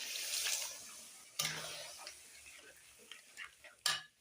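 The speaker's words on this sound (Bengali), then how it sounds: "আবার জল দিয়ে দিলাম, ভালো করে সুন্দর করে মিক্সড করে দিলাম" Water is poured into a pot and a mixture is stirred with a utensil, giving soft scraping and clinking with two sharper knocks against the pot, up close, no talk.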